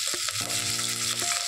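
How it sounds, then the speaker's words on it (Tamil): Sliced onions with curry leaves sizzle steadily in hot oil, a continuous bright frying hiss alongside a sustained tonal hum, with no talking. "இது நல்லா இந்த எண்ணெயிலே ஃப்ரை ஆகட்டும்."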